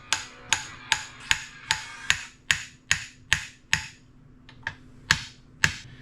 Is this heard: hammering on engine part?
yes